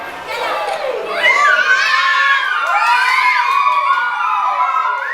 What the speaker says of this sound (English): Everyone's screaming.